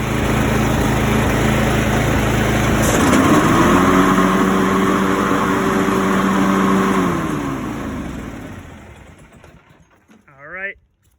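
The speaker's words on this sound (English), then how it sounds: "It will spin once this mower gets going." A lawn mower engine runs loud and steady up close, its pitch shifting as it revs, then winds down and dies away near the end, with a brief voice at the close.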